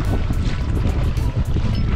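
Small dinghy moving across open sea in wind, heard as a steady rush of wind buffeting the microphone over hull and water noise, with rhythmic gusty swells and no talking.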